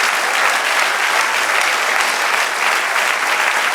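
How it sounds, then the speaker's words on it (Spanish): A church congregation applauding, a dense steady wash of clapping held at full level throughout, close and loud. "Dale otro aplauso al Señor."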